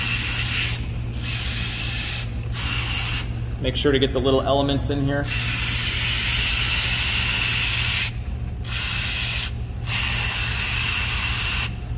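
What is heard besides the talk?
spraying mass airflow sensor cleaner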